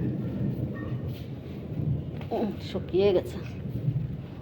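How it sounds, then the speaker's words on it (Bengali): Distant thunder from storm clouds rolls as a low, continuous rumble, with a person talking briefly over it. "মেঘের গর্জন"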